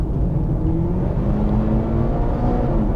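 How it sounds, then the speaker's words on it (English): A Subaru STI or Mitsubishi Evo engine held at a steady 3000 RPM gives a continuous droning whine with a low rumble, loud and close, with no one talking. "So just listen to how it whines"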